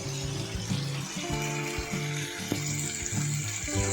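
Ground masala paste for a chicken curry frying in oil in a pan over medium heat, a soft steady sizzle with faint bubbling and occasional stirring knocks.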